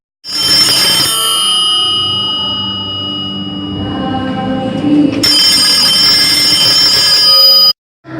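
Telephone ringing on the line of a Murray Hill number, a steady electronic ring tone continuing for several seconds, loud and close, with a brief gap near the end.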